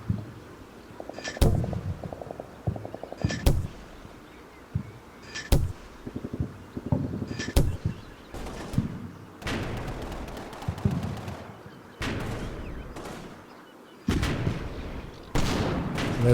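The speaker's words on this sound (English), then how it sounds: "Starting to put those mortars in the tube." 60mm mortar fire in the video game Combat Mission Fortress Italy, a series of sharp, loud bangs about every two seconds with short echoing tails over low background rumble.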